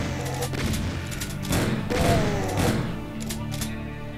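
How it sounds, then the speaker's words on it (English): A chain gun firing in Doom the Roguelike, rapid bursts of blasts and thuds repeating with a game soundtrack in the background. "Ooh, chain gun."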